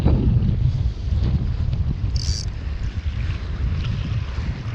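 Strong wind buffets the microphone during lakeside fishing, a loud continuous low rumble with gusty swells and a brief high squeak in the middle, no speech.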